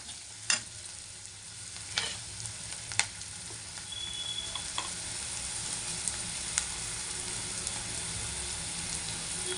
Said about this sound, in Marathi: आता मी हे हळद मीठ पण यात टाकून देते. ओके, तर आपल्याला याला करायचं आहे मिक्स अशा प्रकारे.